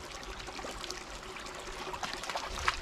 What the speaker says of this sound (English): There's the stream now I'm looking for.